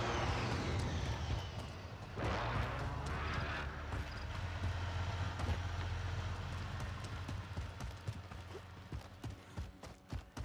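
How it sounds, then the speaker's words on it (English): In Call of Duty: Modern Warfare, a train rumbles past with a steady low roar and rhythmic clatter of wheels, loud at first and then fading. "Why can I hear the train but there isn't a train?"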